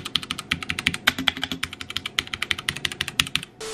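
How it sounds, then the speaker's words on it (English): Fast, steady typing on a wired 63-key light-up keyboard: crisp clicks in a quick, close, even rhythm for several seconds, ending with a short tone, with no voices. "I think it's called a 63 keys light up keyboard."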